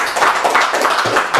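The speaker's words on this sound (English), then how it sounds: "give these guys a little round of applause." A burst of applause from a small crowd at a quiz event, dense overlapping claps at steady loudness throughout, fairly close and with no voices over it.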